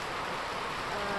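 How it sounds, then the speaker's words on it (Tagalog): Steady rain falls during a long downpour near a creek, making a dense, even hiss that holds constant throughout. "mahigit 2 oras na yung pag-ulan"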